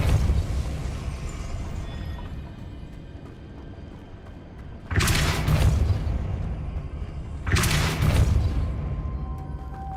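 Depulso spell casts in Hogwarts Legacy, heard as two loud, bright whooshing blasts a few seconds apart, each fading over about a second, over a steady low rumble.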